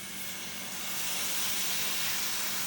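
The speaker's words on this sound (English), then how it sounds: "And now we'll go ahead and add our broth." Broth poured into a hot pan of mushrooms for Salisbury steak, a steady close sizzle and hiss that grows slightly louder and continues without pause, with no voices.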